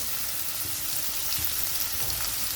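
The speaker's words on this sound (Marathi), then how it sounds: "आता कांद्याला आपण परतून घेऊ" Onions sautéing with salt in a pan for chole masala, a steady close sizzle with faint stirring underneath, even and continuous throughout.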